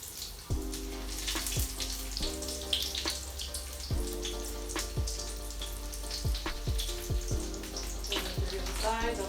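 Breaded arancini fry in hot oil in a pan, giving a continuous crackling sizzle up close, broken by sharp clinks of a utensil against the pan.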